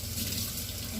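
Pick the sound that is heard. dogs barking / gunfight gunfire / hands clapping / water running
water running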